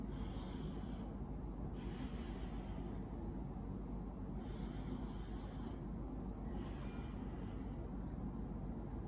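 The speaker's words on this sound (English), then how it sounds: "Take 2 deep breaths." Deep breaths come one after another in slow, even cycles. Each long airy inhale and exhale sits close over a constant low background hum.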